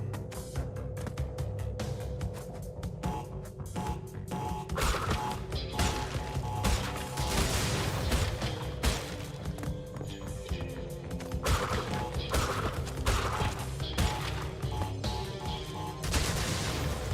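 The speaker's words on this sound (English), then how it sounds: "Cool guys stare at explosions." In the Crash Bandicoot platform video game, rapid bursts of gunfire and booming explosions crackle continuously with sharp repeated impacts, a busy, fairly quiet barrage throughout.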